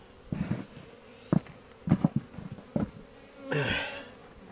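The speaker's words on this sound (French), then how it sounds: "Là on a des ruches très actives." Honeybees at very active hives with pollen coming in, buzzing in short passes close by, with one louder swelling buzz near the end.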